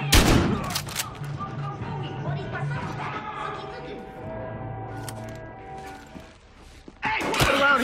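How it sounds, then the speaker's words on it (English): Gunfire in the video game Battlefield Hardline, a burst of sharp shots at the start and more cracks near the end, with game voices speaking over music and ambience in between. "Respond with caution. Code 3. Gunfire reported."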